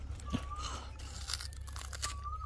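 A chilled red guava is bitten with a crisp crunch, then chewed in a couple of wet crunching bursts close to the microphone, with a few short background voice sounds.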